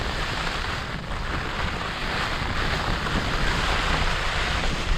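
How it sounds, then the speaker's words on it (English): Heavy rain drums steadily on a taut tarp shelter in foul weather, a dense, continuous hiss and patter with gusty wind noise across the microphone and no voices. "The weather has turned really foul. You can hear the rain,"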